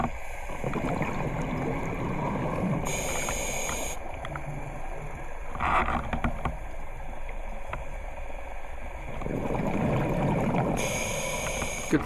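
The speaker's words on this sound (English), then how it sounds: "I can still hear Matt motoring around above me" An outboard motorboat cruising on the surface off Guernsey's east coast, heard from underwater as a muffled, constant drone, broken twice by bursts of a scuba diver's exhaled bubbles.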